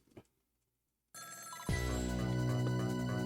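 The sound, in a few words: telephone ringing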